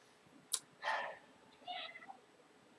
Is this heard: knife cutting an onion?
no